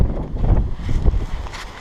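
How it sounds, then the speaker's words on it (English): Gusty winter wind in Linville Gorge buffets the microphone with low, rumbling bursts that rise and fall in strength. "Very windy out there."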